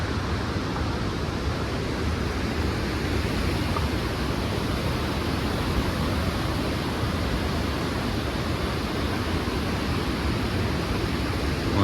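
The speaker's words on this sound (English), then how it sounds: "We got another runoff here." Runoff water rushes down a hiking trail near a river whirlpool, a dense, continuous, loud hiss of water with no voices.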